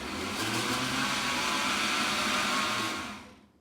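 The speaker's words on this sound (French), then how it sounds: "je peux mixer à vitesse moyenne directement" A mini-bowl food processor blends pesto at medium speed with a continuous, fairly loud whirring motor hum that holds steady for about three seconds before cutting off.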